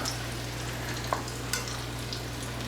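A frikadelle meatball slides off a spoon into a hot frying pan, with a steady sizzle of frying throughout and a couple of brief soft impacts as the meat lands, near and fairly quiet with no talking.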